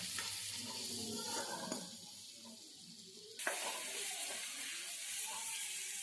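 Tomatoes sizzle and soften in a couple of spoonfuls of oil in a pan for taro curry, a steady close frying hiss with light stirring scrapes and a brief louder burst midway.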